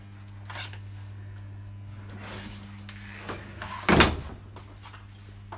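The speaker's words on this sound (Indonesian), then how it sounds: "pintu ini mohon ditutup kembali" An office door in an abandoned building is pushed shut, ending in one sharp, loud thud after quieter shuffling and movement, set against a steady low electrical hum.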